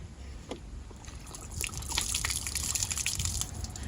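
Water spills out of a half-empty water bottle, a close, steady splashing trickle that starts with a few drips and swells into a continuous patter after the first second.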